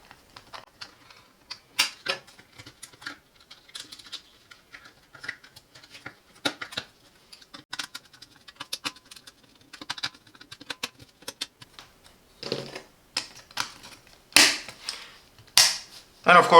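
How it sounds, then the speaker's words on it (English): Plastic cover being pried and removed from a SwitchBot Relay Switch 1PM housing, a close series of small sharp clicks and snaps, irregular and scattered, growing louder near the end. "Let me remove the cover."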